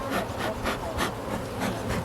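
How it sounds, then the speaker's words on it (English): Agitated honeybees buzzing around a beehive at a bee club gathering, a dense, close, continuous hum with pulsing swells as bees fly past. "we got a lot of upset bees today"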